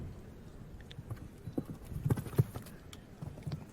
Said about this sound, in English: Good experienced ride now here too from Cian to take a run at this